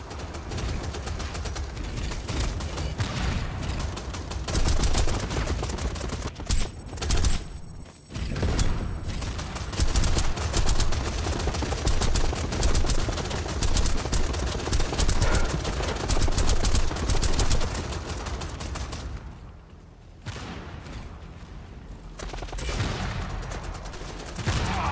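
Gunfire in the video game Tribes 3: Rivals, dense rapid bursts of shots that run almost continuously, broken by a few short pauses, loud and close.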